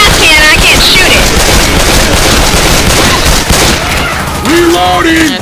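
Rapid gunfire bursts in a zombie-survival video game, loud and continuous with booming impacts, while voices shout over the shooting.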